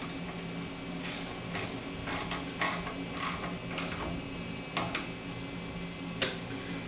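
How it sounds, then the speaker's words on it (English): A hand ratchet with a 10mm socket tightens the bladder cap on a shock absorber. Its quick metallic clicks come in short, irregular bursts, close and clear, with no talk. "This takes a 10mm socket. We're going to just firmly snug this up to compress the O-ring."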